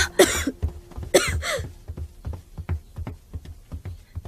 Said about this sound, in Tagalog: Bakit po inuubo kayo ng malubha?